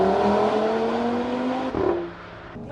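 A tuned 400 hp Audi RS3 accelerates, its engine holding a loud, steady droning tone that dips and eases off toward the end.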